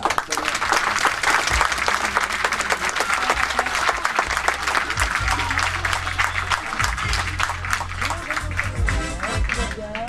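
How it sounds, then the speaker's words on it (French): Cruise boat audience applauding loudly to welcome a trainee purser, a dense, sustained roar of clapping from a large crowd, with people speaking through it. "Je vous demande un tonnerre d'applaudissements pour notre commissaire en formation, Audrey."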